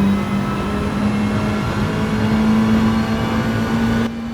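Race car engine from Gran Turismo 7, a Mercedes in a Manufacturers Cup race at Blue Moon Bay, droning steadily and loudly at high revs throughout, then dropping off slightly near the end.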